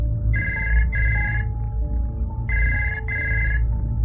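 A telephone rings in two double bursts, each a pair of bright electronic trills separated by a short pause, over a low background hum.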